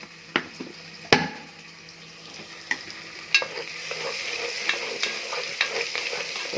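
Masala spice powder frying in a pan of oil, a few sharp spoon scrapes and knocks over a steady low sizzle as it is stirred, with faint kitchen water noise in the background.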